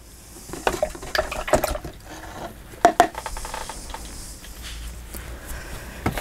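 A paintbrush being rinsed in a water jar, with a few sharp clinks and taps against the container and soft splashing, close and fairly quiet, alone without talk.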